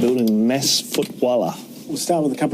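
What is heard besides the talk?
No everyday noise stands out behind the speech.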